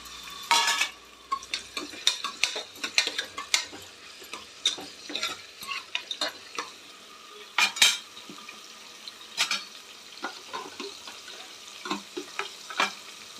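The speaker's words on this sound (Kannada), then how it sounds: "ಇದಕ್ಕೆ ಒಂದು ಅರ್ಧ ಈರುಳ್ಳಿ ಸಣ್ಣಕ್ಕೆ ಹೆಚ್ಚಿರೋದನ್ನು ಹಾಕ್ತಾಯಿದ್ದೀನಿ" Finely chopped onion for a country-style mutton gravy frying in a pan, with a steady low sizzle and frequent sharp clinks and scrapes of a spoon stirring against the metal, close and without talk.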